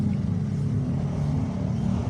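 A Foton Tornado truck with a Cummins engine, freshly overhauled, runs at a steady, loud idle with a deep, continuous rumble and no audible speech.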